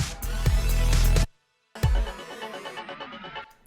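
Synthesized electronic backing sounds from a Novation Launchkey Mini play in two bright bursts separated by a brief silence, the second fading with a rippling, arpeggiated texture.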